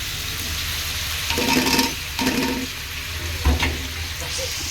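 Noodles drop into a hot frying pan, setting off steady sizzling with a few louder bursts of crackle and a brief scrape partway through, close and fairly loud with no voices.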